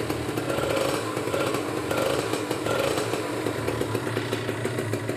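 Cold 2012 Kawasaki Ninja 150 RR two-stroke motorcycle idling, a loud, raspy, buzzing engine note that holds close and steady with a slight uneven pulse, heard alone.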